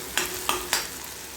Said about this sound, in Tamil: கொஞ்சமாக இஞ்சி பூண்டு பேஸ்ட் ஊற்றிக்கங்க. ஊற்றி நல்லா வதக்கி விட்டுங்க.